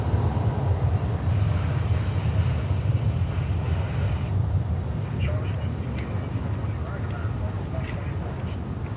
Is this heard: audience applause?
no